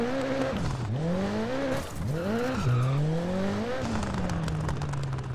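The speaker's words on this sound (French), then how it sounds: "je vais vous laisser profiter avec le bruit de la voiture" Rally car engine in Dirt Rally 2.0, the revs sweeping up and down through gear changes with a tonal whine, close and loud throughout, ending in a sustained steady drone.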